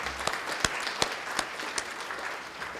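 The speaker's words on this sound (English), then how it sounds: "A round of applause for yourselves." An audience at a higher education address in Texas claps, a fairly faint, thin patter with a few sharper individual claps standing out.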